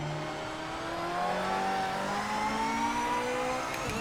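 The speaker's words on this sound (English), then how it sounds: "The Corvette just sounds so fantastic." A Corvette GT3 race car engine in the racing sim Project Motor Racing drones steadily at moderate level, pitch slowly climbing as it accelerates through the gears, with no talk.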